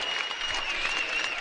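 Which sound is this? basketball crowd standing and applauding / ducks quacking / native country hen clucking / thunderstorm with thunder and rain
basketball crowd standing and applauding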